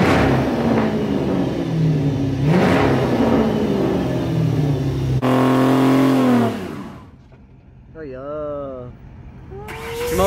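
A car engine revs loudly up close, its pitch rising and falling, then winds down and drops off, leaving brief voices and quieter background noise.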